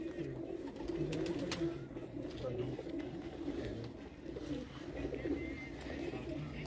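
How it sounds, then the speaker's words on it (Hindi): Soft, low cooing of a Parwazi pigeon repeats steadily over a hushed background of ambient noise and faint voices. "बहुत शानदार कबूतर, क्या बात।"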